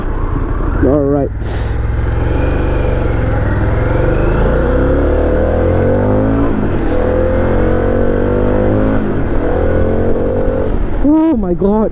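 A Harley-Davidson Pan America 1250 Special adventure motorcycle accelerates hard on a road, its loud engine rising in pitch through successive gears over constant wind rush, with brief voice sounds near the start and end.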